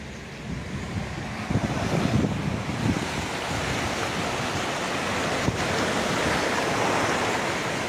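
Ice-melt water of a mountain stream in the Sangla Valley near Chitkul and Rakchham rushes continuously nearby, a broad steady roar with some wind buffeting the microphone.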